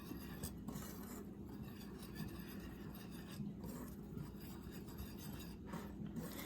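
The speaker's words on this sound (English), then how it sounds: "add all of our spices and seasonings to the flour and give that a nice whisk to combine them" Wires of a whisk scrape steadily against a bowl as spices and seasonings are mixed into flour for pumpkin bread, a continuous soft rasping stir with no talk.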